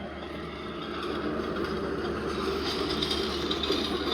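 Recorded freight train sound played back through a small DIY speaker setup, a steady rumbling rail roll that grows slightly louder and continues without pause, no talking.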